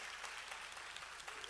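Congregation applause at a Korean church worship service for newcomers, a steady wash of clapping held at an even level from start to end with no pause.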